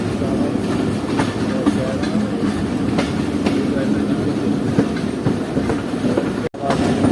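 Jaffer Express standing at a station during a two-minute stop, with a steady low rumble of train and rail noise, faint clatter and a few sharp knocks throughout, and a brief dropout near the end.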